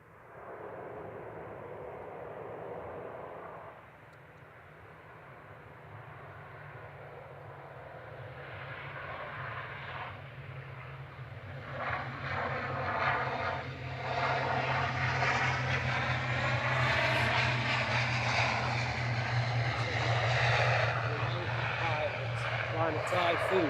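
Eurofighter Typhoon jet flying the wrong way through a valley near Manchester Airport, its roar swelling from a distant rumble to a loud, broad sustained blast, with people talking over it.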